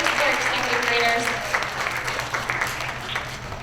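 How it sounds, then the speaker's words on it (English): Applause from a school audience greeting second-grade students of the month, a dense patter of clapping that holds steady and slowly thins, with a voice briefly audible over it. "Let's give Emily and Liam a big round of applause."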